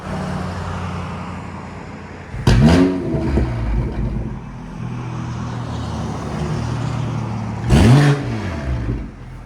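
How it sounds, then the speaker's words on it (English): A 2022 BMW M340i with a 3.0L turbo inline-six and a Valvetronic down-pipe-back exhaust idles on a cold start with the valves open, a deep steady burble broken by two sharp revs, close and loud. "So this is valves open on the cold start."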